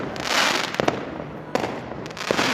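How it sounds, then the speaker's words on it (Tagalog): New Year fireworks and firecrackers going off, a dense crackling roar with several sharper bangs standing out, loud and continuous. "Ang dami niya paputok ha."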